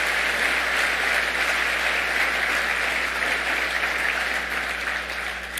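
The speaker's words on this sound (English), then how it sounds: "Please take a moment with a round of applause for all of our gold and silver lever partners" Steady, sustained applause from a convention audience at a bowling congress annual meeting, a dense even wash of clapping that holds for several seconds and fades slightly at the end, with no talk over it.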